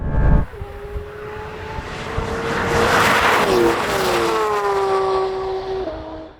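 Porsche 911 GT3 RS and Maserati MC20 racing each other, a loud sustained engine roar with rising and falling pitch as the cars accelerate and shift, close and continuous with no talk.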